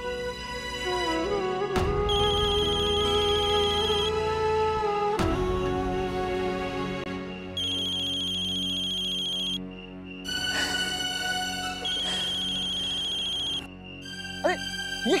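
A mobile phone rings with a melodic ringtone for an incoming call, looping continuously and fairly loud, with brief breaks and shifts in the tune and background sounds underneath.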